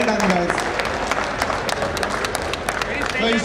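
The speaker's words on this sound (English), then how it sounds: "A big round of applause to these guys." An audience at a property expo fireside chat breaks into applause, a dense, continuous patter of clapping with a voice speaking over it.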